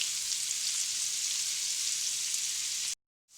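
Mushrooms and meat sautéing in a pan give a steady, dense sizzle that runs unbroken for about three seconds, then cuts off abruptly into silence.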